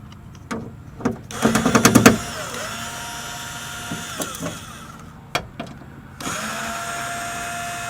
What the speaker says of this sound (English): we're going to take these 3 GIS screws off and take this metal panel off